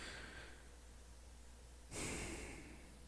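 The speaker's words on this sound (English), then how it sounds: "I'm sorry for breathing into the mic." A single soft breath into a close microphone, a short exhale or snort-like puff after a near-silent stretch, faint and alone with no talking.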